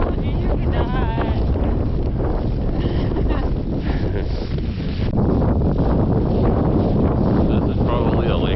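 Strong wind buffets the microphone across flat, treeless open land near a lake, a loud, continuous roar under voices that talk over it.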